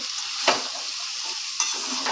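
Bottle gourd frying with spices in a pan, a continuous close sizzle with two distinct spatula scrapes against the metal, no voices.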